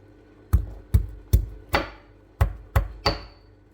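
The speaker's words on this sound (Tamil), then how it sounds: "2 உள்ளி இதையும் நச்சு எடுத்துடுவோம்." Seven sharp, evenly spaced thuds of garlic cloves being crushed on a board, close and distinct, each with a brief ringing tail, with no voices.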